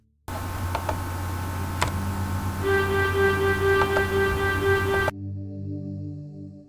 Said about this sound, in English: We select that, then we'll end up with a tremolo mark, which will sound like this.